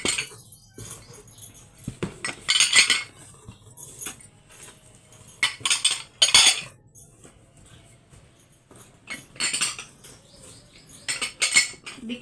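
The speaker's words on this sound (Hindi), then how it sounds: "अब इसके अंदर हम सारे कप भी जोड़ देते हैं," Cups are clinked and set one by one into a container while kitchen dishes are stored away after rain damage, giving bursts of bright ceramic and metal clatter between quieter pauses, close and fairly loud.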